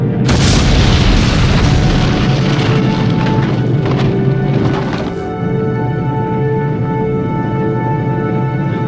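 A massive boom from the Mount Toba supervolcano eruption bursts out loud and dense at the start, then rolls into a sustained, heavy roar that holds steady for several seconds with no voices.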